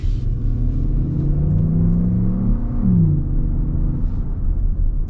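A 2025 Lexus RX 500h hybrid accelerating from inside the cabin, a steady low rumble with a rising synthetic engine tone piped through the speakers, holding then falling slightly.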